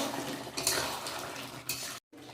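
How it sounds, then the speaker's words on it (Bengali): Mutton being stir-fried with tomatoes in a pan, a spatula scraping and clinking against the metal over a soft sizzle, steady throughout with a brief sharper scrape near the middle and a short dropout near the end. "টমেটো দিয়ে আরও কিছুক্ষণ কষাবো"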